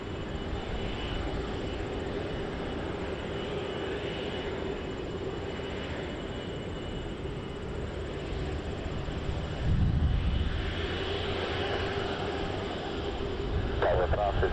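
An airliner taking off from runway 24 right at Montreal-Trudeau airport, a continuous broad engine roar heard from a distance, steady with slight swells, while radio chatter from air traffic control plays over it.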